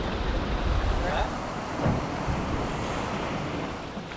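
Ocean surf breaks on a reef in a loud, continuous roar, with gusty wind buffeting the microphone throughout.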